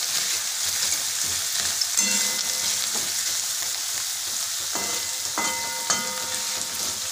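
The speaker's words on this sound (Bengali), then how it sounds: "রসুন পেঁয়াজ এগুলো সমস্ত লাল লাল হয়ে উঠেছে, ভাজা ভাজা করে নিয়েছি" Garlic and onion frying in a pan, a constant close hiss of sizzling oil with a few clinks of a utensil against the pan midway and toward the end.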